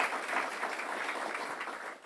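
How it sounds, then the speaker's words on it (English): Steady audience applause at a public event on Long Island, a continuous dense patter of many hands at moderate distance. "So let's give them both a round of applause"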